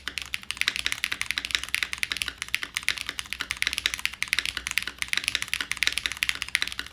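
Fast, continuous typing on a mechanical keyboard, with crisp, closely spaced key clacks in an even, busy rhythm, recorded close up with no talking.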